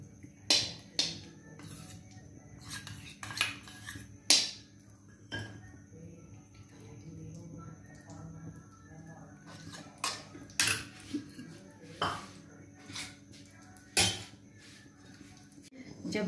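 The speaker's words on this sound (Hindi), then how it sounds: "सबसे पहले हम गैस ऑन करके कढ़ाई लेंगे, उसमें सबसे पहले डालेंगे घी।" A metal kadhai on a gas stove, handled as ghee goes in to start suji halwa, gives scattered sharp clinks and clanks of cookware and utensils, fairly quiet and close, with short pauses between knocks.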